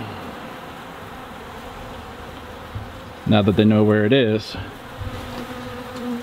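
Honeybees buzz around an upside-down 5 gallon bucket feeder on a truck tailgate outdoors, a sudden loud close droning burst rising over faint background hum; someone speaks briefly.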